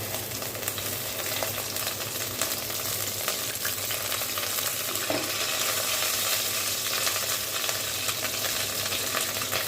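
Mustard seeds temper in hot oil in a kadai, sizzling and crackling steadily, a dense hiss with small pops, faint and continuous with no talking.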